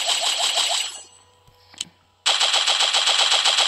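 A video game gun fires in rapid, steady automatic bursts, loud and close, with a short pause and a few clicks before the firing resumes.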